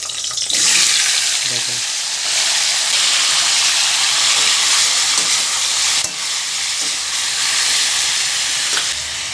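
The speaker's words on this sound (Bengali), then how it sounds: "এই পটলটা আমি এখন তেলের পর দিয়ে লাল লাল করে ভেজে নেব।" Pointed gourd, parboiled beforehand, frying in hot oil with a steady loud sizzle and hiss throughout, broken by occasional stirring clatters; no talking.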